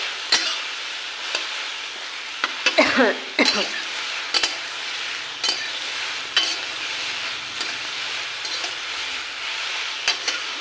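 Taro stolon curry is stirred in a sizzling pan, a steady frying hiss broken by several scraping spoon strokes, close up, with a brief throat-clearing sound.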